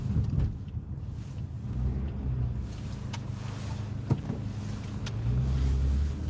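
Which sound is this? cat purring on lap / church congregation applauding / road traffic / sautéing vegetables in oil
road traffic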